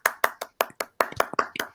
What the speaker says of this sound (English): everyone, round of applause for Sporting